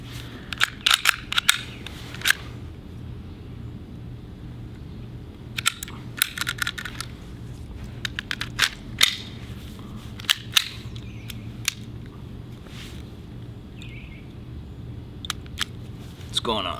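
A Sig P365 4.5mm BB air pistol gives sharp snapping clicks in scattered clusters, close and crisp, with people talking around them.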